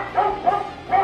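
Dogs bark near a house, three quick close barks spaced across a brief moment with nothing else heard.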